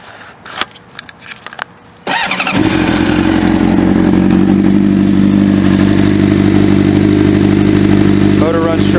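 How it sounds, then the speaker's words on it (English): A 2005 Honda CBR600RR with a Yoshimura slip-on exhaust starts after a few clattering handling noises, then idles loud and close with a steady, even rumble that holds to the end. "Motor runs strong and smooth"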